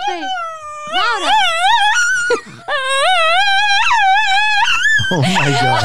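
A dog named Alfie howls and croons in a wavering, song-like wail in a studio, rising and falling in long pitched phrases close to the microphone, with a brief break midway.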